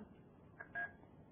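A phone line carries a couple of faint, brief dialing tones, one short beep followed by a slightly longer one, quiet and thin against a low hum, with no talking.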